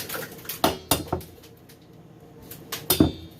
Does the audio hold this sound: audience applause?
no